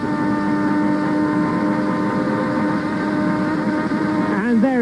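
A 1990 McLaren Honda Formula 1 car closes on a Lotus Lamborghini at the German Grand Prix: a loud, steady high-pitched engine scream holds throughout, then a quick swooping pitch sweep near the end as the second car passes close by.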